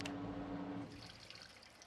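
Water swishes and trickles inside a washer in Project Zomboid, a brief humming drone that cuts out, leaving soft splashing and sloshing water that fades quietly.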